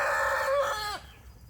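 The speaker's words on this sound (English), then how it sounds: "You hear all kinds of birds chirping, roosters crowing, ducks quacking." Rooster crowing outdoors in a Florida garden, one loud close crow with a sustained middle and falling tail, ending in about a second against a faint background.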